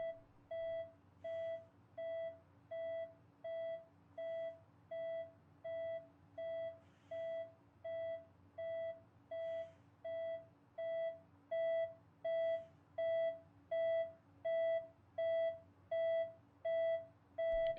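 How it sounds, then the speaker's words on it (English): Hospital monitor alarm from the video game That Dragon Cancer: a steady electronic beep repeating about once per second, each tone sustained and even, continuing unbroken over a faint low hum with no voices. "And you hear alarms, and you see machines like this."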